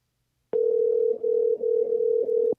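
Ringback tone on an outgoing phone call: a steady, clean electronic tone that starts abruptly and holds for about two seconds, close and moderately loud, with no voices.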